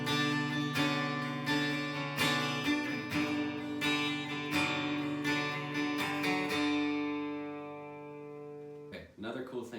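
An electric guitar plays the intro of a song with a slide, in bright, even plucked notes that ring out and fade to quiet near the end. The clip ends on a brief noise.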